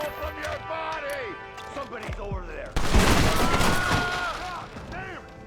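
Rifle fire in Red Dead Redemption erupts partway through as a loud, dense volley of shots and crashes. Voices speak over it, and there is talk before the shooting starts.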